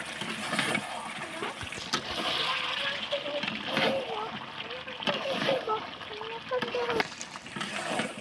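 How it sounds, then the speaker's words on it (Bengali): Meat braising in hot oil in a pot in a village home kitchen, a steady close crackling sizzle with stirring splatters throughout, with a voice faintly underneath. "মাংসটি তেলে পড়েছে"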